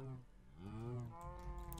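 Cows moo in Minecraft, one drawn-out low lowing call heard close and clear, with another moo starting near the end.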